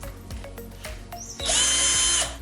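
A power drill bores into cast art toy parts in a workshop: a few light clicks and handling knocks, then a loud, steady high whine for about a second before it cuts off.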